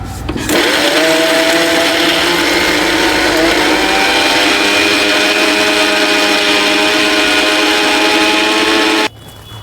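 An electric mixer grinder grinds rock salt with a loud, sustained high-pitched whine that runs for about nine seconds before cutting off abruptly.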